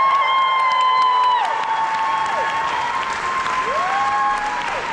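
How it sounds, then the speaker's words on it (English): Crowd applause and cheering for a newly announced association president, sustained clapping at an event with steady tones running through it. "So please give a big round of applause for next year's SBIAA president"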